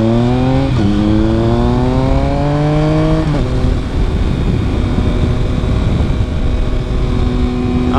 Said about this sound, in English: Maserati, or is that a Jag?